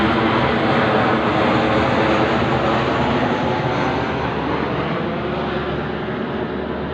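A loud, steady roar of an airplane passing low overhead, broadband and unbroken, easing only slightly toward the end.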